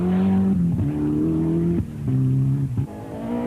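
A rally car at the 2004 Great North Rally drives a stage, its engine revving hard and close through repeated gear changes, with brief dips between loud, climbing pulls.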